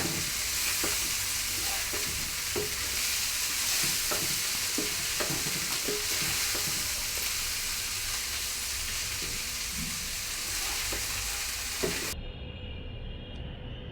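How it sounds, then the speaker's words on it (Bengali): Cauliflower fry stirred in a pan, a steady close sizzle with repeated scraping strokes of the spatula for about twelve seconds before the noise drops away to near quiet. "এখন কিছুক্ষণ নাড়াচাড়া করে আমি ভাজিটা নামিয়ে ফেলব।"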